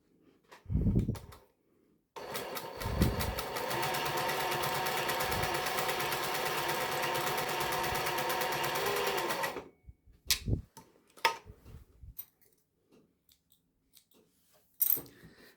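A sewing machine stitches a straight seam joining two pieces of fabric, running steadily and loudly for about seven seconds before stopping. Scattered handling clicks and bumps come before and after the run.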